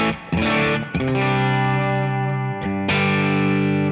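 Electric guitar played through a capture of a Suhr Bella amp at its 44-watt setting, with sustained overdriven chords ringing out, briefly choked and restruck twice, loud and close with no talking.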